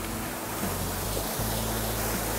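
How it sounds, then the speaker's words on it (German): A small channelled stream with little built-in steps and pipes runs close by, giving a steady, even rush of flowing water with no pauses. "Ja, ist ein kleiner Bach, der hier, keine Ahnung, kanalisiert wurde."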